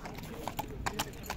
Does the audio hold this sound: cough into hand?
no